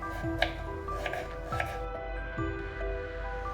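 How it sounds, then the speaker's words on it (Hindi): A knife cuts a carrot into long diagonal pieces on a kitchen board, giving four or five soft, spaced chops over a low background hum. "ये देखिए कुछ इस तरीके से ये गाजर काट लेती हूँ मैं"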